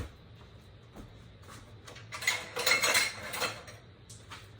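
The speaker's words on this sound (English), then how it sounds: "I'm just gonna whirl it around and mix everything up" A spatula whirls chocolate pound cake dry ingredients around a bowl, quiet at first, then building into a busy run of scraping and clinking against the bowl before easing off.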